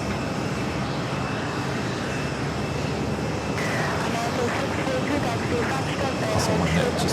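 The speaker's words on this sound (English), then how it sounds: "JetBlue action with an Airbus A220-300" Steady aircraft engine roar from a JetBlue Airbus A220-300 at New York JFK airport, a continuous broadband rumble that swells slightly midway, with faint talk underneath.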